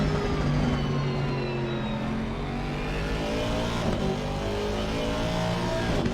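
GT3 race car on an on-board lap at Misano in a racing video game, engine roaring steadily with rising and falling rev sweeps through the gears, loud and continuous throughout.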